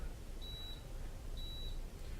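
A Carrier 38MA/38MG air conditioner unit gives two clear electronic beeps, each about a third of a second long, spaced roughly a second apart over a steady background hum.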